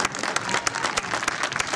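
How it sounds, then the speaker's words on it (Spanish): An outdoor crowd at a horse and flamenco show in Hervás gives strong applause for a group of dancers, a steady wash of many hands clapping with sharper individual claps standing out. "Un fuerte aplauso para ellos."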